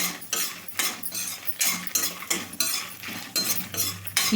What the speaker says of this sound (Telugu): ఒక అర స్పూన్ జీలకర్ర మాడకుండా మంచి కలర్ వచ్చేదాకైతే వేపుకోవాలండి కలుపుతానైతే వేపుకోవాలి